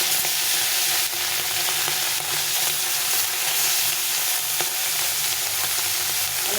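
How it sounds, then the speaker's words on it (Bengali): Small shali morola fish sizzle in a well-heated wok with a little oil, a steady, close, dense frying hiss that runs without a break for the whole stretch, with no voices. "তো কড়াটা ভালো করে গরম করে নিয়েছি, এখন মাছগুলো আমি দিয়ে দিচ্ছি।"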